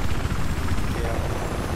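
A helicopter's rotor beats with a steady, loud chop over a dense engine roar in Battlefield 4.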